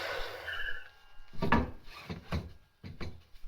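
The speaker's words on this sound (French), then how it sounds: "le but du jeu est de découper plein de petits carrés dans les chevrons." Old wooden roof rafters are cut into small squares, heard as a few rough sawing and rasping strokes up close, with short pauses between them.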